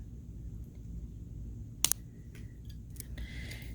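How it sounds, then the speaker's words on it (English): Wire cutters snip excess beading wire on a handmade necklace, a single sharp double click standing alone against quiet room tone. "Cut this excess off. Be careful and cut the right wire."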